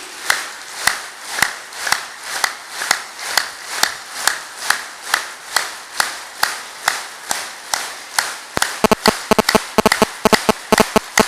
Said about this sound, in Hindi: पूरे हाथ खोल लीजिए, 5 अंगुलियां खोल लीजिए और मस्ती से जम के 30 बार गिन के ताली बजा लीजिए।